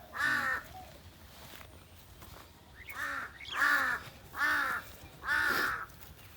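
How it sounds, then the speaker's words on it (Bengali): A crow caws five times in an uneven series, harsh and fairly close, against a quiet background of soft wind. "আর ও কাক তো তাই না"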